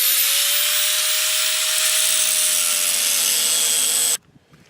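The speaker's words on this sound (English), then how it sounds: "I'm just going to start it so you can see the difference" An angle grinder with a cutting disc slicing metal while making a hobo stove, a loud, close, continuous high-pitched whine and grinding rasp that holds steady for about four seconds and then stops abruptly.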